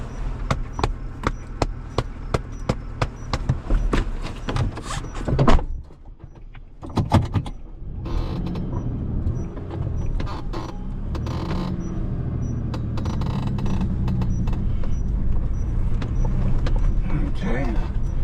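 A car backs up near a gate on muddy ground. A few sharp clicks and rattles come first, then a low engine rumble builds and holds steadily, growing slightly louder toward the end.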